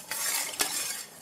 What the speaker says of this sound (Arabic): ادوب الدقيق في قلب المية